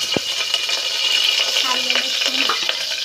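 Ginger, garlic and curry leaves sizzle and crackle steadily in hot oil while being stirred, with scraping clicks from the stirring and a voice talking faintly underneath.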